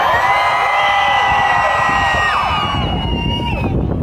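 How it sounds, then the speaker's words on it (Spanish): A large crowd at an anniversary celebration shouts, whoops and cheers loudly, a sustained roar of voices with rising and falling yells filling the space. "¡Un pinche grito de la gente, chingado!"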